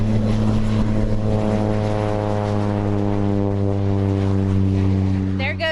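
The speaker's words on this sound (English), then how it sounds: "She is in that airplane as we speak." A propeller airplane carrying a skydiver takes off, its engine drone loud and steady with strong low harmonics throughout, fading slightly near the end as people talk faintly in the background.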